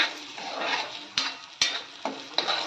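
Ground masala paste fries in oil in a pan with a steady hiss, punctuated by a few sharp scrapes and taps of the spoon as it is stirred, heard up close.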